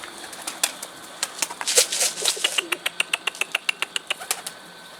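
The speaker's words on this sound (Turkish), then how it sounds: "Ben size konuşurken kuş yukarıya geri geldi." A bird at a rooftop or unfinished roof flaps its wings in a quick, steady series of sharp, close beats that grow more regular toward the end, with a few faint chirps between them.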